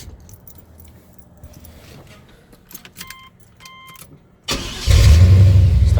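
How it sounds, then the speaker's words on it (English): Keys jangle and dash chimes sound before a 1993 Chevrolet S10 with an LT1 V8 cold starts, a short crank bursting into a loud, deep, rumbling idle up close. "go ahead and do the cold start for you guys"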